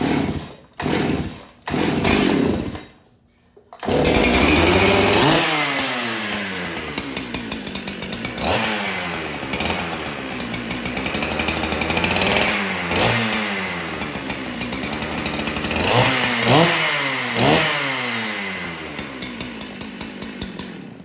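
An old 365 chainsaw pulled over a few times, then firing up and running with repeated throttle blips, revving high and dropping back in a steady rhythm, loud and close throughout.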